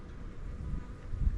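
Bees buzz close around a beekeeper working at a hive box outdoors in spring, a low steady drone without voices.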